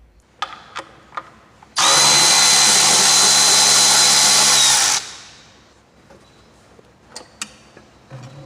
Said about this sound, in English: This air hat has to come off, and I'm using a 13/16 socket for removal.